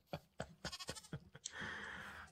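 A goat in a video game bleats several times in quick, separate calls, then a broad hissing wash follows at moderate level, with no speech.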